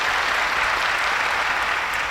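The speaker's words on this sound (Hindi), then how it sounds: "मुझे लगता है एक बार फिर से जोरदार तालियां इन सब के लिए।" Loud, steady applause from an audience at a farewell gathering, dense clapping filling the whole stretch without a break.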